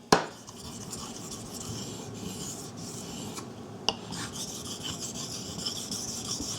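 A Jantz knife blade is worked on a Chosera 400 grit whetstone, giving a continuous soft rasping scrape with a sharp tap at the start and another midway.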